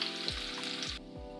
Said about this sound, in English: my potatoes are frying good